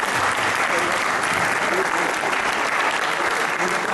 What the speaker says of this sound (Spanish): Aplauso bat